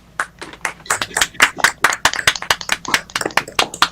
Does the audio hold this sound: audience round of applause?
yes